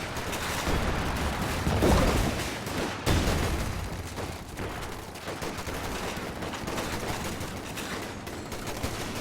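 Battle noise from the Company of Heroes 2 video game, with .50 cal machine gun fire in a 2v2 match: dense, continuous rattling bursts and gunfire layered with rumbling impacts, loud and sustained throughout, with no talk.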